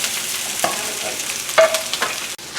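Onions tossed into a pan of frying shrimp, about a kilogram, sizzle and crackle as they are stirred, with scraping and a few clanks from the spoon.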